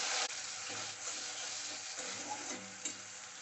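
Spice paste fries with lightly browned chopped onions in a pan for a dahi bhindi dish, giving a close, steady sizzle with soft stirring scrapes and no talking.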